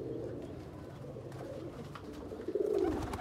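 Pigeons coo softly and steadily throughout, with a louder burst of cooing near the end from birds close by.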